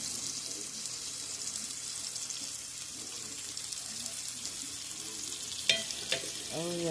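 Shrimp and portobello mushrooms fry in coconut oil in a pan, a steady sizzle throughout with a few sharp utensil scrapes and clinks near the end as the food is stirred; no one speaks.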